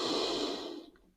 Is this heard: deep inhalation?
yes